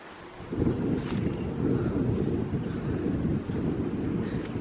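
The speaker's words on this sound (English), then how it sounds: "there is so much wind" Strong wind gusting through a wooded historic graveyard, a steady loud roar buffeting the microphone throughout with no talking.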